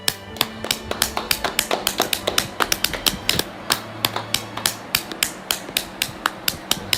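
Sharp, steady hand claps ring out aboard a passenger plane, a long run of evenly spaced, fairly close smacks over a low cabin hum.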